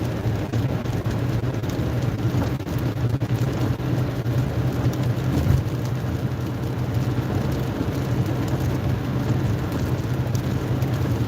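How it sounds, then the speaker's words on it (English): Steady rain drums on a car while driving, a constant broadband hiss with low road and engine rumble underneath, loud and continuous with no talking. "I can't really respond to him because I'm driving in the rain."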